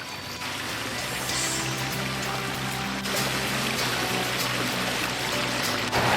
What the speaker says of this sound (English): So here behind me is that backyard waterfall kit.